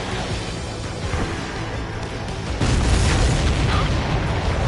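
A missile strikes its target in Ace Combat, setting off a loud, deep explosion that swells into a sustained rumbling roar in the second half.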